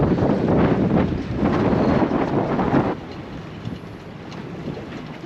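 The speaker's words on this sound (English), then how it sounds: "today it is quite windy outside and a lot of gusts." Gusty outdoor wind at a Lisbon waterfront, aboard a sailboat, buffets the microphone with heavy low rumbling roars, then drops to a softer, steadier blowing halfway through.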